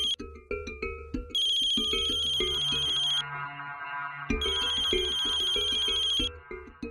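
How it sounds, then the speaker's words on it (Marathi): A telephone rings with a looping electronic ringtone in a Marathi TV serial scene, two loud bursts of bright repeating tones over a steady musical backing, with a short gap between them. "भाऊसाहेबांचा फोन."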